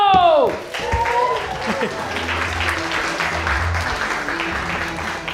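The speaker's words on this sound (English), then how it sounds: "give a round of applause to Tim McConnell." Audience applause for Tim McConnell at a Bettakultcha talk evening, a steady wash of clapping across the hall that follows a brief spoken introduction and holds at an even level throughout.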